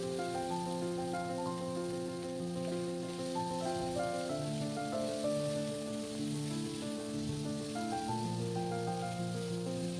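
Vegetables cooking for a Bengali mixed-greens chorchori with ginger paste, ground coriander, cumin, a little chili powder and sugar in a small amount of oil: a steady, soft sizzle runs under prominent melodic background music throughout.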